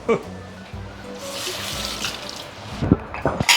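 Hot water is poured into a pot while cooking Muar-style assam fish, a steady close splash and trickle running throughout with occasional clinks of utensils.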